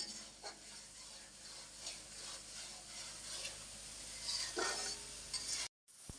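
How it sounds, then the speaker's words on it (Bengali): Green chilies, onion and garlic frying in a pan: a steady low sizzle with spoon scrapes and stirring clinks, a few sharper metallic knocks, and a brief cut to silence near the end. "কাঁচামরিচ পেঁয়াজ রসুন ভাজা হয়ে গেছে"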